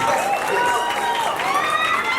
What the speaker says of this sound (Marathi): त्यामुळे एकदा जोरदार टाळ्या झाला पाहिजे तिच्यासाठी